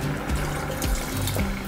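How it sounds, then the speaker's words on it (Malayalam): Water poured into a simmering lentil curry made with bottle gourd, a steady close splashing and gurgling pour heard alone. "എനിക്ക് ആവശ്യത്തിനുള്ള വെള്ളം ഒഴിച്ചെടുക്കാം കേട്ടോ."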